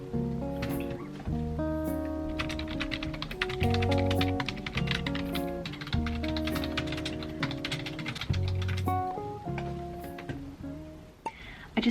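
Someone types an email on a computer keyboard, with rapid, uneven key clicks running close and clear. Music plays underneath throughout.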